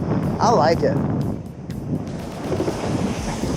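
Wind buffets the microphone aboard a moving 2026 MasterCraft X24 wake boat, a steady low rumble under someone talking close by, with brief louder gusts.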